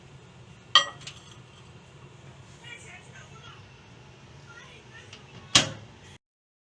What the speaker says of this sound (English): Let's put the glass into the microwave.